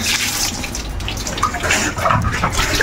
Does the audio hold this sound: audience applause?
no